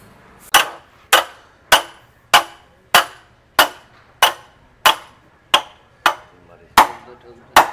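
An iron rod is hammered into a hollow steel pipe with about a dozen sharp, ringing metallic strikes at a steady pace, each one loud and close with a short decaying tail.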